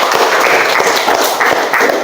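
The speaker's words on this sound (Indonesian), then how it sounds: "Kita beri tepuk tangan lagi." A classroom of students applauds in a brief burst of dense, lively clapping that stays loud and even for about two seconds, with no speech over it.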